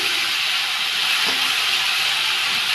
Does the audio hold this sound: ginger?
yes